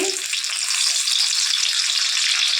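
Sugar and two bay leaves hit hot oil in a wok and sizzle loudly, a dense, steady crackling hiss that continues for about two and a half seconds, heard close up with no talk.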